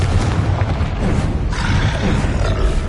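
Confringo blasting spell explosion in the Hogwarts Legacy video game, a continuous loud booming roar with dense low rumble filling the whole stretch.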